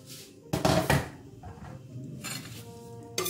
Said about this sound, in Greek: Ανοίγουμε το σκεύος